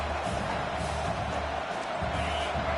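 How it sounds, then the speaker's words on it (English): A packed football stadium crowd roars at full throat, a dense, continuous wall of loud cheering with no break across the whole stretch. "This crowd, full throat, splitting the eardrums"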